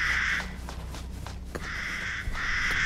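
Crows caw repeatedly in Resident Evil Village, harsh calls at the start and again later, over a low steady ambient rumble with scattered clicks.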